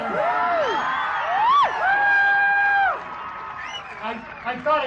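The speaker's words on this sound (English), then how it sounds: "The crowd gave Ellsberg a standing ovation." A crowd at an anti-nuclear rally at Rocky Flats gives Daniel Ellsberg a standing ovation, with loud whoops, shouts and cheering over clapping that swell, then ease into scattered yells.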